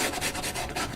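Quick back-and-forth scrubbing of stiff toothbrush bristles in acrylic paint, a rough rhythmic rasp close up, about five strokes in a second.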